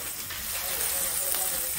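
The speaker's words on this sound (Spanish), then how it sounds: "la carne que está friendo." Meat fries on a stove with a steady broad sizzle and hiss, close and continuous with a faint background of voices.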